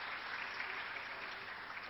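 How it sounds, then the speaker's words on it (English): An audience at a South Asia media summit gives panelists and a moderator steady, dense applause with no breaks, heard from some distance at low level. "a big round of applause for all the panelists and the moderator"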